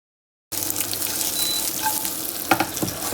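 Chorizo fries in oil in a pan with a dense, steady sizzle and crackle, close and loud, with a few sharper pops near the end and no talking.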